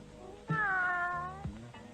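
A cat gives one long, loud, drawn-out meow up close, sliding in pitch, with a quieter short mew following near the end.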